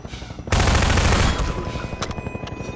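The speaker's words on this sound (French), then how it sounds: "Mitrailleuse." In the Half-Life 2 video game, a machine gun fires one loud, rapid burst lasting about a second, then its echo fades and a few faint clanks follow. Nobody speaks.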